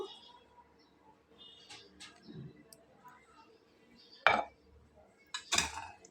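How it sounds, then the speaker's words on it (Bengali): A spoon mixes parshe fish with chopped onion, ground spices, mustard paste and oil in a bowl, giving a few sharp clinks and scrapes, soft at first and then two louder knocks near the end. "আমি এখানে একটা চামচ দিয়ে মাখিয়ে নিচ্ছি"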